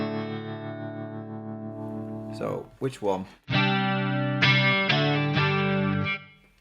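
An Enya Nova Go Sonic smart guitar on a clean preset rings out in sustained strummed chords with effects, broken by a short pause and a brief spoken question before more loud, ringing chords.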